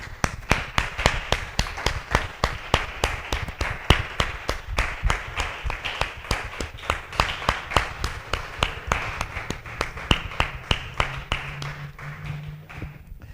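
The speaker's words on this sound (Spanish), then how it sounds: "Dale un aplauso al Señor." A church congregation clapping for the Lord in crisp, evenly spaced sharp claps that keep a steady, insistent beat close by, fading slightly toward the end with a low hum beneath.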